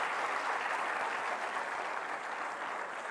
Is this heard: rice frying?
no